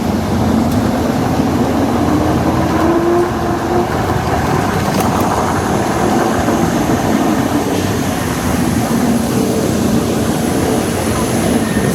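A Weped Night Rider electric scooter rides in third gear with a loud, constant rush of wind and road roar, a thin motor whine running through it, and a faint voice under the noise.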